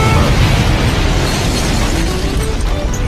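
A bomb explosion, a loud dense roaring blast that fills the whole stretch with a broad rumble and slowly fades a little, with no talking.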